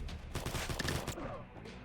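Bursts of rapid gunfire crackle from a Call of Duty-style shooter game, dense and sharp for about a second, then trailing off into a softer noisy tail.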